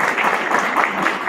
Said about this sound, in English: Can I get a round of applause for the couple of the night here?